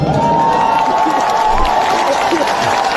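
A large rally crowd claps and cheers in a steady, dense wash of noise that holds at full level for the whole stretch, with a few shouts rising above the mass.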